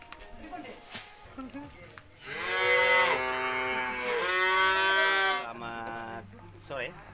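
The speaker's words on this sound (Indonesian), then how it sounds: "di sebuah peternakan sapi, pengemukan sapi, dan penjualan sapi" Cattle at a fattening and sales farm in Wonogiri moo in a long, loud, drawn-out call lasting several seconds, with quieter barn sounds and voices around it.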